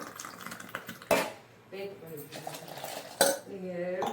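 Herbal kashayam of ginger, pepper and thulasi poured back and forth between steel vessels, with sharp metallic clanks and pouring liquid in two bursts and faint voices in the background.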